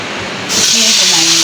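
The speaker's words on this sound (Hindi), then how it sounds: "ये आ गया है जी लहसुन का तड़का।" Garlic tadka for daal sizzling in hot oil, a loud, steady hiss that swells abruptly partway through and continues, close up, with a faint voice underneath.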